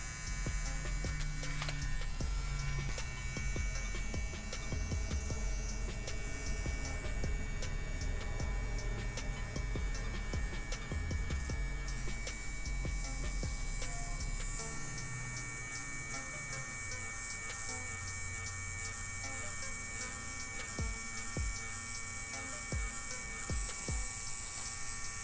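A tattoo machine buzzes steadily while needle depth is checked before shading, a continuous close electric hum with faint ticking and small shifts in the low drone, with no talking.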